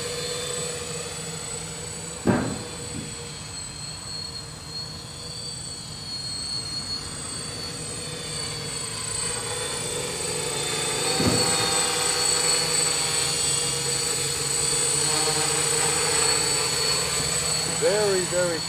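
Quadcopter drone on a Naza flight controller, motors arming and lifting off into a steady buzzing whine that rises and shifts in pitch as it flies nearby, with a couple of sharp knocks early on.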